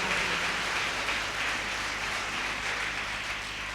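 An audience at a Hindi comic poetry gathering claps continuously, a soft, even wash of applause at a distance that holds steady throughout without any speech.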